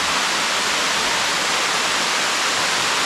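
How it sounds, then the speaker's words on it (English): The Ellender Falls waterfall pours in a constant dense hiss of falling water, loud and even throughout with no pauses. "down here, the base of there is the waterfall"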